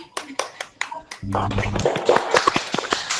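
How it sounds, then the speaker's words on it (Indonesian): A classroom group at a vocational school claps together in a quick, even run of hand claps for about a second, then voices and scattered taps carry on over the room's murmur. "tepuk tangan buat kita semua"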